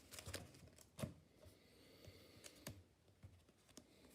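Pokémon trading cards are shuffled by hand in a deck, giving quiet, irregular clicks and soft flicks close to the mic, with no voice over them.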